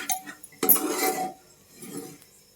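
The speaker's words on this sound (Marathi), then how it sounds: "आता पावभाजी मसाला टाकलाय चांगलं मिक्स करून घेते" A spoon clinks and scrapes against a metal pan while pav bhaji vegetables are mixed with masala: a few brief knocks, one longer scrape, then a softer shuffle, all close by and without talk.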